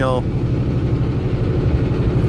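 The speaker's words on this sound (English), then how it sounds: "You guys can probably hear the engine." A heavy semi truck engine drones steadily at low pitch throughout on a steep grade, loud and close, with a brief higher whine at the very start.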